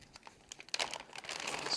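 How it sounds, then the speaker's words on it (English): Close crinkling of a plastic bag, a few scattered crackles at first, then a denser rustling burst as it is handled. "It looks like it comes in a plastic bag"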